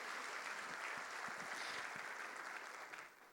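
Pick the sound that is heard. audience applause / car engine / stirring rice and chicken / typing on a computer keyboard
audience applause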